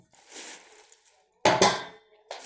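Hölmer metal cooking pots with strong handles clank and scrape as they are handled, with a couple of sharp ringing knocks between quieter shuffling, close up.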